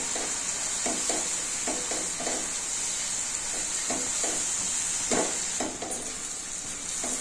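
Chili powder fries in oil in a pan, a steady sizzling hiss running throughout, with repeated scraping strokes of stirring close by.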